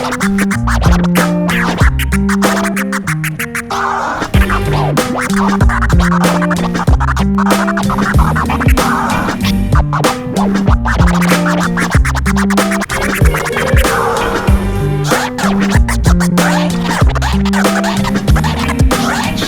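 DJ turntable scratching in a rapid, choppy rhythm over a steady beat with a repeating bassline, loud and continuous for about twenty seconds with no talking.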